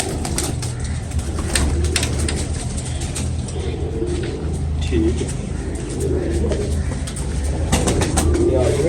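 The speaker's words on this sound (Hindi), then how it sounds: "देखिए ये कबूतरी" Soft, low coos of a performing pigeon pair repeat now and then over a steady background hum, fairly close and moderately loud.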